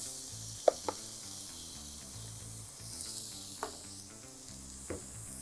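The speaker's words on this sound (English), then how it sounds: "now we're gonna sear off our shallots and leeks" About 1.5 cups of minced shallots and leeks searing in a pan give a steady, quiet hissing sizzle throughout, broken by a few sharp clicks and taps, against a low hum in the background.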